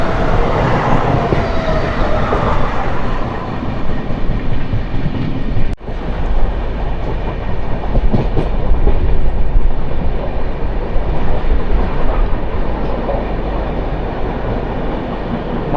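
The Mandovi Express runs along the rails near Mumbai with a loud, steady rumble and rattling wheel clatter throughout, broken by one sharp click midway, and no voices.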